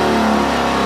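Small Baja 900 portable generator engine running under roughly 100 watts of load, a steady close mid-pitched drone that holds constant for under a second.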